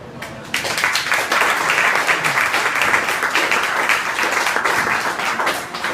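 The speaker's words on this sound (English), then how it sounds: "let's give her a round of applause" Audience applause for a speaker being introduced at a political event, dense sustained clapping that begins abruptly and holds steady and loud throughout.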